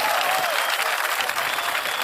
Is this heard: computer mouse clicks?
no